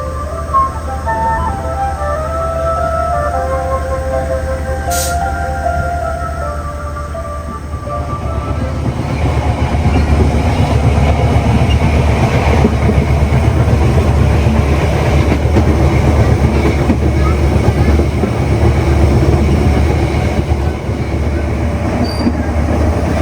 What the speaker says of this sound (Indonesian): Sesaat lagi kereta api gedung Sempur akan tiba di stasiun